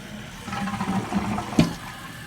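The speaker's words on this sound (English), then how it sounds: "you can hold the handle down, all the way down until all the water empties from the tank" A Kohler toilet flushing as its tank empties, a short gurgling rush of water with a sharp sloshing peak near the end, fairly close and without speech.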